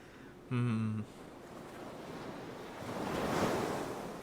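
Ocean waves wash in a broad, steady rush of surf that swells louder toward the end, with a short horn-like tone sounding briefly near the start.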